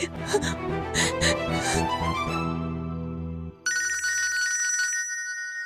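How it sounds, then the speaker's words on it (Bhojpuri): A telephone rings with a bright repeating electronic tone after a short burst of other sound, steady and fairly loud. "भैया के फोन आवता माई"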